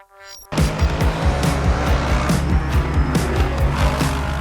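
A race car in Project Motor Racing, driven with a Fanatec CSL GT3 wheel, roars in after a quiet start, engine revs rising and falling through repeated upshifts with tire squeal, loud and close.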